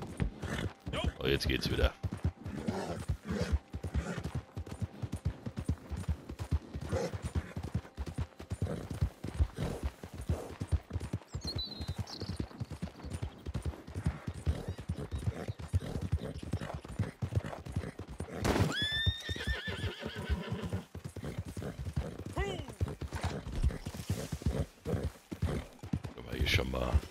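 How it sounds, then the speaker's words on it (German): A nervous horse in the Red Dead Redemption 2 video game, hooves clip-clopping steadily throughout with a brief whinny near the end, while someone talks over it. "Pferd ist immer noch ganz nervös, wie ihr gerade seht."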